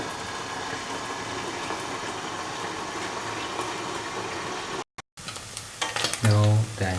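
Anchovies fry in a pan with a steady, close sizzle and crackle, briefly cutting out around the middle, then stirring clatter and scraping pick up near the end.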